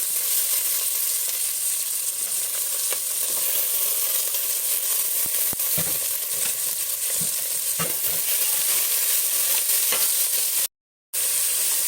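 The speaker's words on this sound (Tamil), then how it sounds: "இந்த வெங்காயம் வந்து நல்லா கோல்டன் ப்ரௌன் ஆகிற வரைக்கும் நல்லா எண்ணெயிலே ஃப்ரை ஆகட்டும்." Onions, green chillies and whole spices such as cinnamon, clove, cardamom and bay leaf fry in oil for a mushroom biryani, giving a loud, steady sizzle with occasional stirring scrapes, and a brief cut near the end.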